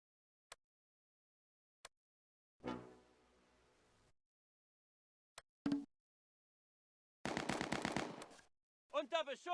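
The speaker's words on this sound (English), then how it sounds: "Corporal Kramer's front right Bren section targets the squad." Bren light machine gun fire in the Close Combat war game at Arnhem: sharp isolated shots, then rattling automatic bursts alternating with silence. A short clipped voice callout comes near the end.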